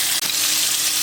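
Chicken wings frying in hot oil, a steady bright sizzle and crackle heard up close, loud and continuous for about a second with no talking.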